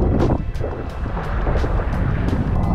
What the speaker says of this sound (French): Le vent est en train de tomber un peu.